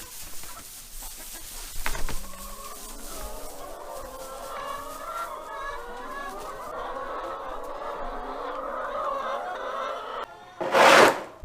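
Hens clucking and murmuring softly nearby, with scattered louder calls and a sharp, noisy squawk near the end.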